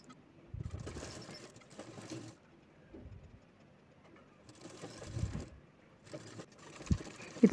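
A sewing machine stitches red fabric-strip piping onto three fabric pieces, running in three whirring bursts separated by quiet pauses and small handling clicks.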